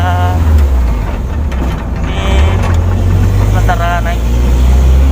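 A low, steady engine rumble and road noise fill the cabin of a moving car, loud and continuous, with a person speaking over it.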